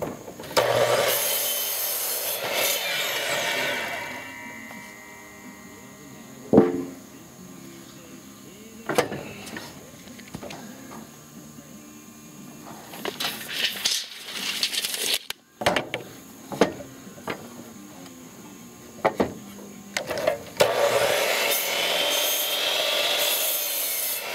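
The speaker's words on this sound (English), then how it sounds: "Cut my top and bottom plate for each side of the sidewalls." A hand saw cuts wooden top and bottom wall plates for the sidewalls of a small shack, giving close rasping strokes in bursts, with knocks and clatter of boards between cuts and no talk.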